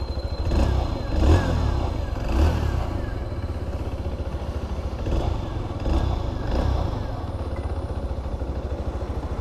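A TVS Star City Plus 110 motorcycle, a 2025 model, idles with a steady low exhaust thrum, broken by a few light throttle blips.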